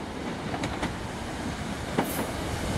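A London Midland class 150 train at Worcester Foregate Street station, a steady rolling rumble with a few faint clicks and a brief high squeal, heard from the platform with no talk.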